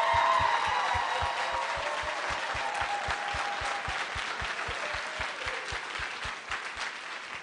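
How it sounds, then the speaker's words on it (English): An audience at a school kick-off celebration gives teachers a sustained round of applause, steady and full throughout, with a regular rhythmic low thump running underneath and a faint voice. "I'd like to give them a Grizzlies round of applause for these teachers"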